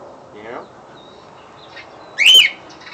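A pet bird gives a few sharp chirping mating calls, close and bright, with a louder burst near the end and quiet gaps between.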